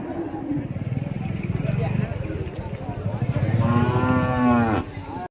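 Cattle moo loudly at a cow market in Vaniyambadi, one long drawn-out low call rising over the general bustle, with someone talking nearby beforehand.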